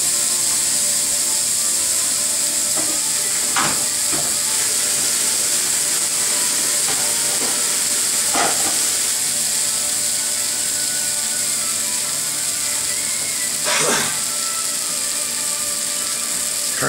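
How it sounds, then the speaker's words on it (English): Burger patties sizzle in a hot, well-seasoned pan, a loud continuous crackling hiss with sharp pops now and then, steady and close throughout, with no talking. "Let's just sizzle for a few minutes."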